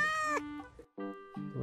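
A cat meows twice, drawn-out, plaintive calls with a short pause between them, close and clear.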